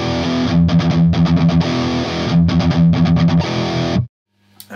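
Electric guitar played through an amp's clean channel with no overdrive pedal, strummed chords in two bursts with short pauses, loud and close, ending abruptly in near silence with a faint after-noise.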